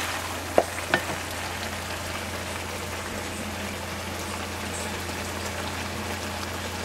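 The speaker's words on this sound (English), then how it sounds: "wine sit in this pan and simmer down until it's nearly completely evaporated" Marsala wine simmering and reducing in a pan for chicken marsala gives a steady, even sizzling hiss throughout, with two small utensil knocks near the start and no talking.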